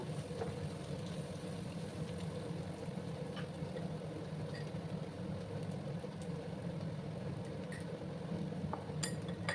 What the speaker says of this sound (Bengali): আমি দেখো পটলের আলুগুলো দিয়ে দেবো, একসাথে ভালো করে কষিয়ে নেবো